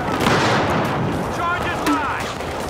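Rapid gunfire crackles almost continuously in a Battlefield Hardline multiplayer match, with shots and impacts layered close together and voices shouting over the din.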